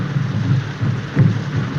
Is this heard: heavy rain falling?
yes